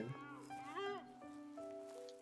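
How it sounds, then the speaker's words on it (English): A deer in a farming video game lets out odd, mooing bleats, a wavering tonal call rising and falling over about a second, followed by other steady tones and game sounds, with no one speaking. "Deer make weird noises."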